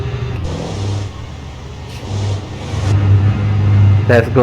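An overloaded truck in a driving video game, its engine revving and droning in third gear, loud and close, rising toward the end with someone talking over it.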